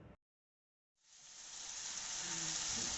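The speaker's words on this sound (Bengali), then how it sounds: "আমি একটা বাটিতে আগের থেকে টমেটো সস, চিলি সস, সোয়া সস মাখিয়ে রেখে দিয়েছিলাম। এবার সেটা কড়াইতে দিয়ে দিলাম।" Tomato, chili and soy sauces hit a hot wok after a brief silence, swelling into a loud, steady sizzle that holds to the end.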